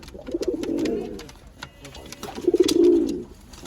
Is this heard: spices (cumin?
no